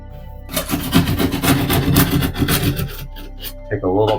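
A file rasps paint and drywall from the edge of a ceiling speaker hole in repeated scraping strokes, close and loud, with a brief voice near the end.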